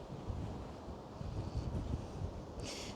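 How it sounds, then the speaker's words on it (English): Wind buffets an exposed high spot in Rochester, England, a steady low rumble of gusts striking the microphone, with a brief hiss near the end and no talking. "I've got wind in my face here."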